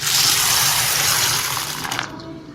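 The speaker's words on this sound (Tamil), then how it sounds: "இது நம்ம தண்ணி ஊற்றி ஊற வச்சிடலாம்" Water pours steadily onto urad dal in a bowl to soak it, a close, loud gushing splash that tapers off near the end, with no talk.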